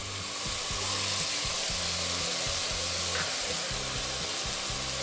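Onion, capsicum and carrot pieces sizzle steadily in an open pressure cooker over a high flame for veg biryani, a constant bright frying hiss with a low rhythmic hum beneath and no speech.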